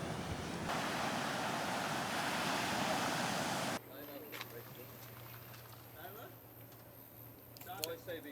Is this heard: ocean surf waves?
yes